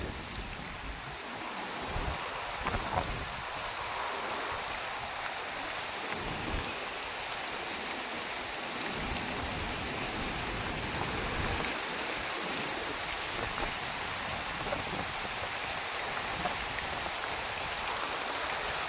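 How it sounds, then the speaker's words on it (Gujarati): Heavy rain falls steadily as a dense, even hiss that lasts throughout, with some low rumbling in places and no voices. "ફૂલ વરસાદ ચાલુ થઈ ગયો છે"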